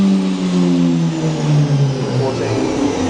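High-pitched steady whine of a Doosan DNM 400 CNC machine spindle spinning at high RPM, its tones slowly gliding downward as it winds down, with a voice talking over it.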